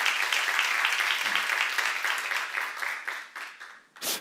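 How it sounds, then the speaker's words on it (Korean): A church congregation claps during a sermon on Revelation chapter 1, a moderate, steady patter of many hands that gradually thins into scattered claps before a voice resumes. "박수로 하나 드리세요."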